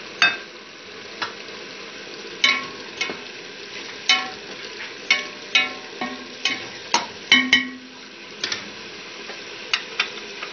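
Tomatoes going into fried keema in a karahi, a steady sizzle punctuated by a dozen or more sharp metal spatula taps and scrapes in an uneven rhythm, close and fairly loud.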